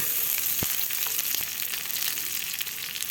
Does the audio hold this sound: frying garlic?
yes